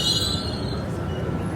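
A loud, steady high-pitched squeal of train wheels on rails as a train arrives at a station in Rome, Italy, continuous and close, with a low rumble underneath.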